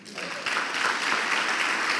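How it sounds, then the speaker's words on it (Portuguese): Congregation applauding during a church sermon, a dense steady wash of many hands clapping that swells after a brief start and fills the space without a break. "você não vai aplaudir o Senhor não"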